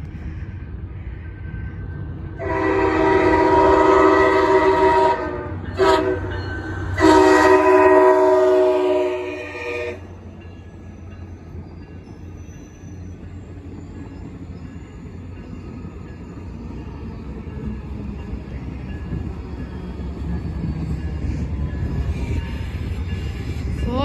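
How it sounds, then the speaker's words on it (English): At the Brunswick rail yard on a cold day, a train reverses back into the yard. Two loud, drawn-out horn blasts come first, then the low rumble and rolling of the cars carries on alone. "this mock train is reversing back into the yard"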